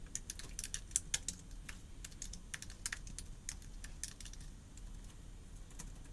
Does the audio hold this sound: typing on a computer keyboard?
yes